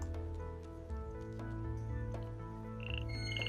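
A small frog croaks in a video game, short wet squishy calls over a steady layer of game music and ambient tones, with a bright chirpy blip near the end.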